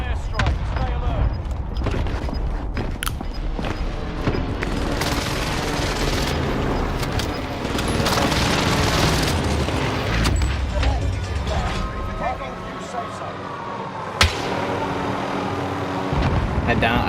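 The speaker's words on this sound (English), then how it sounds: "Enemy precision airstrike." Explosions from a precision airstrike boom in a first-person shooter game over dense gunfire and rumbling, with one sharp blast near the end. People talk over the constant battle noise throughout.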